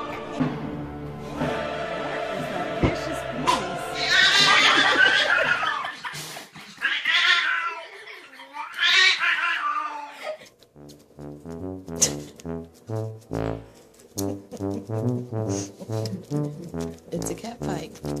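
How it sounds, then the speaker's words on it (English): Cats fight with loud, drawn-out caterwauling yowls and hisses up close, then rapid, rhythmic, pulsing yowls continue toward the end. "It's a cat fight."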